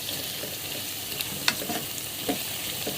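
Onions sizzle and crackle steadily in hot oil for Egyptian koshari, a soft continuous frying hiss with a few brief pops and stirring scrapes, close by and without talk.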